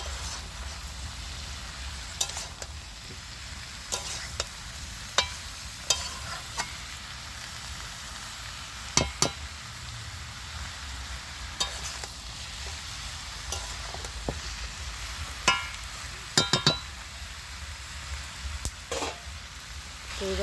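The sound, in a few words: stirring curry with kasuri methi in a pan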